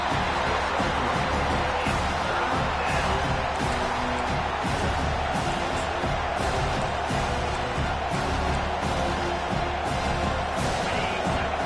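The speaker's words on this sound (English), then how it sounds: "Decibels rising as the crowd gets behind this defense on third down." Stadium crowd in College Football 25 building during a third-down defensive stand, a dense continuous roar with no breaks, loud and steady across the whole stretch.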